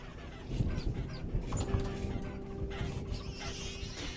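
Chickens clucking in the survival game Vintage Story, a continuous busy murmur of fowl calls at moderate level with no talking over it.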